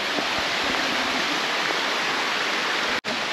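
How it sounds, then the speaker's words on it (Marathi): Monsoon rain water seeps and trickles over rocks on a fort trek, heard as a dense, even close wash of water noise with no talking, ending in a brief dropout. "असं सुंदर असं दगडातून पाणी झिरपत आहे"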